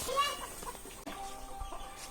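Chickens clucking close by, a few short bursts of cackling over a busy farmyard background with no talking.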